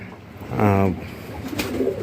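Indoors, home-bred pigeons give a single clear, throaty coo close by, with a quieter murmur after it.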